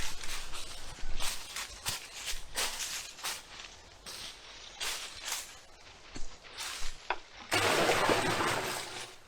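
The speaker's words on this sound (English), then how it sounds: "I'm just putting a little bit more water in it" Water poured and splashing into a pig drinker barrel with nipple drinkers, a steady trickling pour with uneven bursts that swells into a heavier, louder gush near the end.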